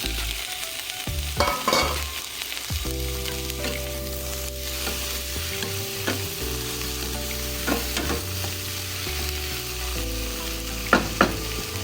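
Tomatoes sauté in a pan with browned garlic and onions, a continuous close sizzle with occasional utensil knocks and stirring scrapes, plus a low steady hum underneath.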